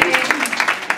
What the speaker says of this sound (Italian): salutiamo con un applauso